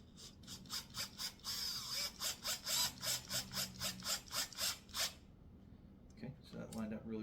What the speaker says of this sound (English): And we're just going to screw that down.